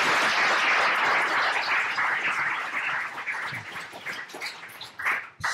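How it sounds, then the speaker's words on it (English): Audience applause at a Startup Grind fireside talk, a dense sustained patter of many hands clapping that slowly thins out over about five seconds, without speech. "I would like to invite you to give a big hand of applause"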